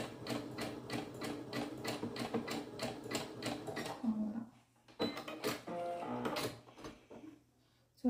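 A sewing machine zigzag-stitches along a fabric edge as an overlock substitute, running in close, rapid rhythmic bursts that pause briefly, then resume.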